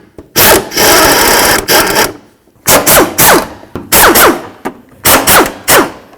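An impact wrench or power tool zips off water pump mounting bolts on a Chevy S-10 in short loud bursts, one long run followed by several quick rattling spurts with pauses between.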